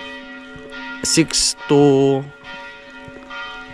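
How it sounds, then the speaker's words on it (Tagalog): A church bell rings with clear, sustained metallic tones that hang over a quiet background while a person speaks briefly nearby. "pasensya na kayo sa kampana"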